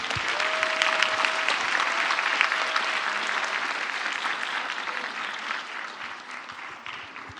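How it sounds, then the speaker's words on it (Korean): Sustained applause from a church congregation welcoming a pastor to the pulpit at a university student winter retreat revival service, steady and dense throughout, with a brief faint tonal voice early on and the clapping easing slightly toward the end. "우리 목사님 나오실 때 큰 박수로 환영하겠습니다"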